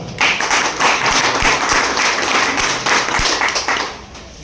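An audience claps for a guest at an RCM business motivational seminar in Pathanamthitta. The clapping is dense and steady, with close hand claps carrying on for several seconds before it tapers off.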